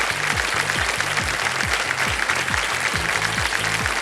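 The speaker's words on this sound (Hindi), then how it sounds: "तालियां बज जाए इनके लिए।" Studio audience applause for a correct answer on the KBC quiz show, steady dense clapping filling the whole stretch, with a rhythmic low musical sting pulsing underneath.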